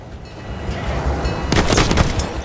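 Battlefield 1 gameplay with a tank cannon firing amid battle noise: a heavy rumbling din, then a loud blast with echoing crackle midway, dense and close.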